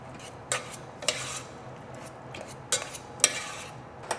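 A utensil mixing and mashing a thick food mixture in a bowl, with a few sharp scraping knocks against the bowl at irregular intervals over a soft background, close and fairly quiet.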